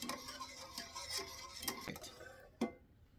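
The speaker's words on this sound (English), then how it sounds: "you're going to heat that up a little while stirring" Spoon scraping and clinking against a pot while stirring heavy whipping cream as it heats, a series of close, light irregular taps and scrapes, with one sharper knock near the end.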